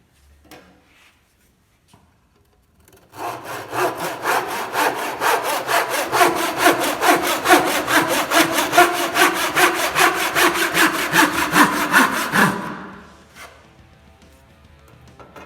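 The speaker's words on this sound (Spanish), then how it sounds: "Ahora el siguiente corte lo voy a desarrollar con el serrucho de costilla." A back saw cutting through wood in a steady run of brisk, evenly spaced rasping strokes, loud and close, lasting about nine seconds before stopping, with near silence before and after.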